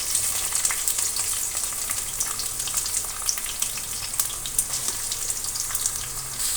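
Onions frying in hot oil in a pan give a steady, dense sizzle that stays close and even throughout, with no voices over it.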